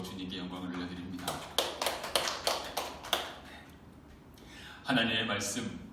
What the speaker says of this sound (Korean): 우리의 박수로 주님께 영광을 올려드립니다